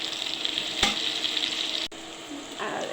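Halved bay leaves and whole spices sizzle steadily in hot oil, a bright continuous frying hiss with one sharp crackle partway through and a softer stretch near the end.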